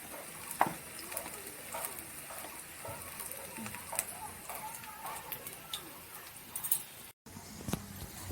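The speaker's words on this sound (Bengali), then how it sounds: "কড়াইতে এখন এগুলো ছেড়ে দিয়েছি, আস্তে আস্তে হোক।" Greens fritters fry in oil in a kadai, a continuous low crackle and sizzle scattered with small pops and clicks over several seconds, fairly faint throughout.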